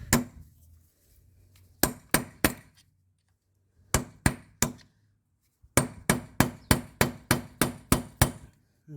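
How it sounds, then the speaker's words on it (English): A hammer striking a drift punch to unstake the front axle nut on a 2005 Toyota Corolla 1.8, sharp metallic blows close by, first in short groups of three, then a fast series of about ten. "So now we need to unstake the axle nut"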